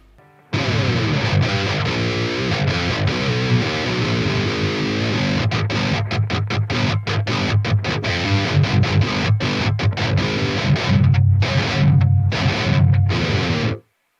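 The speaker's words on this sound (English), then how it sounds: "for really tight djent tones you really don't need a lot of gain" A tight, heavily distorted djent electric guitar tone through Amped Roots amp software, with modest gain, chugs palm-muted rhythmic riffs with abrupt staccato stops, played alone and loud.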